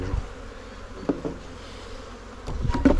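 Honeybees buzz loosely as hive frames are shaken out, a fairly close, uneven hum with a few sharper bumps and rustles, no voices.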